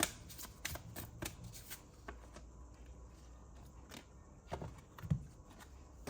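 Tarot cards are shuffled softly and close by, giving a faint run of riffling and slapping rustles with a few louder flicks, and nobody speaks.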